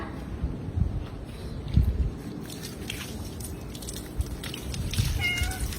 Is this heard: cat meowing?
yes